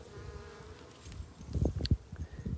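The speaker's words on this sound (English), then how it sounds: "sometimes you can even see bees come in with pollen on their legs" Honey bees buzz around the entrance of their hive. Low, fluttering hums pass close by in irregular bursts over a soft outdoor background.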